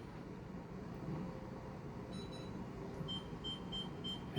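A few short high electronic beeps from an oven timer being set for 25 minutes sound in a quiet room, spaced out over a couple of seconds against a low background hum.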